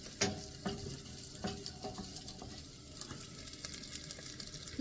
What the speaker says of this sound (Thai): แซ่บๆกำลังผัดพริกแกงอยู่จ้า พี่ตู่จะผัดเผ็ด